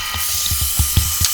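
A wooden pen blank being sanded as it spins on a lathe, giving a steady close whirring hum with a series of short rhythmic scraping bursts, with no voices.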